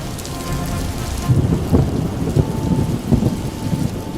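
Heavy rain pours down in a continuous loud wash while thunder rumbles and cracks in several deep bursts over the downpour.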